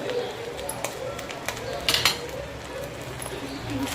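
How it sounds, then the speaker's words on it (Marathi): A utensil stirs and turns rice through masala in a pan for anda masala rice, giving soft scraping and light metallic clinks that repeat irregularly under a low, steady background. "चांगलं चांगलं मिक्स करायचं त्याला आता खालीवर"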